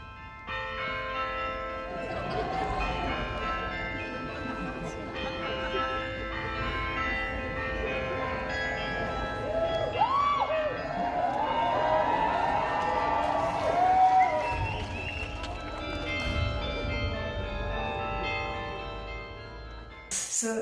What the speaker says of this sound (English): they get to choose like a modern rock song or pop song, and it's played on the church bells